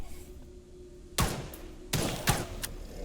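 A gunshot in the horror video game Enigma of Fear, heard as sharp, loud reports. One comes at about 1.2 seconds and two more close together near 2 and 2.3 seconds, over a quiet hum.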